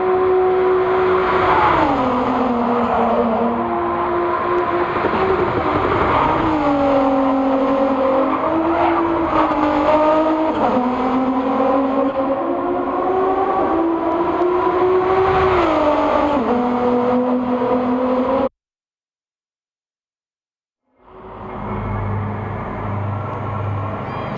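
Gr.3 race cars howl around the Nürburgring 24h circuit in a video game race, engines loud and near, revs rising and falling through gear changes. The sound cuts to a few seconds of silence, then engine noise returns.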